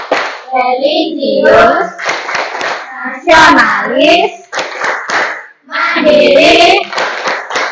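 Bursts of hand clapping in a classroom as a teacher leads children in a rhythmic clap chant about character values, the claps falling between loud spoken chant lines.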